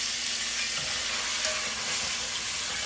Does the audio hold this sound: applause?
no